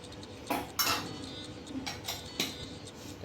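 Rice-flour dough is loaded into a metal murukku press, giving a few sharp metallic clinks and knocks spaced unevenly over a quiet kitchen background.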